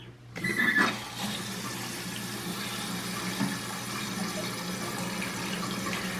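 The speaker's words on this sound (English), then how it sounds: "Now we'll go ahead and turn on the water." Once the water supply is turned on after a flush valve replacement, water rushes steadily into a toilet tank. The hiss is continuous and close, following a brief louder surge at the start.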